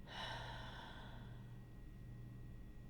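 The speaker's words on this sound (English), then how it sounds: "Another deep breath in. Hold it" A slow, deep breath exhaled during a guided relaxation, a soft close airy rush strongest at the start that gradually fades over a few seconds above a low steady hum.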